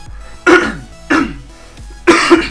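Three short, sharp coughs sound up close, spaced unevenly with quiet gaps between them.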